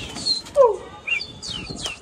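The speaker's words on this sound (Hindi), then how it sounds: "बाकी आप ये देखना कबूतर उड़ा दे भाई ने सारे" Pet black Pakistani pigeons burst into flight, a few quick rushes of flapping wings in short bursts close by, with faint chirps between them.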